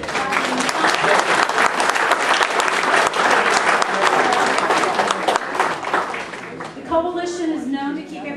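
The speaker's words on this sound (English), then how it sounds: "Let's give a round of applause." A room full of people applauds warmly for several seconds, the clapping fading out as a voice begins speaking at the end.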